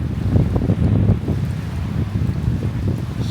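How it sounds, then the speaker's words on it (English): Strong wind blowing outdoors on a winter coast, buffeting the microphone in a constant low roar that surges and eases without a break. "Super windy out here."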